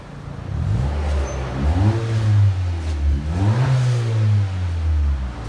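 A 2018 Honda Accord 1.5-liter turbo four-cylinder engine with dual exhaust and muffler delete revving up and down twice, a raspy, loud exhaust note rising and falling in pitch, close by with no talking.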